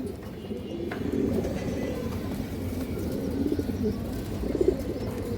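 Female pigeon of a fancy breed cooing softly, a low, rolling murmur repeated through the scene, close and fairly quiet.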